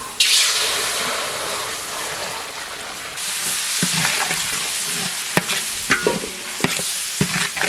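Biryani masala being stirred and fried in a pan, a steady loud sizzle throughout with sharp scrapes and knocks of the spoon in the second half, no talking.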